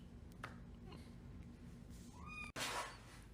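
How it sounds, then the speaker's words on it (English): Faint foster kitten meows, a few rising cries, in the background of a quiet room hum, with a brief sharp noise near the end. "if you hear any meowing in the background"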